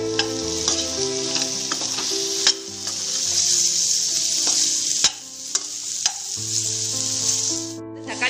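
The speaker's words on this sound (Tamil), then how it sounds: "நல்லா வதக்கிக்கங்க." Bitter gourd sautéing in a pan for a Tamil kulambu, sizzling steadily while a utensil stirs it with occasional sharp clicks and scrapes, under a soft background melody and no talking.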